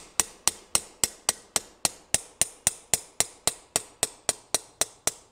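A really heavy forging hammer taps lightly on metal while an ornate sign bracket is shaped, about twenty evenly spaced, bright ringing strikes at a steady quick rhythm, close and clear with no talk.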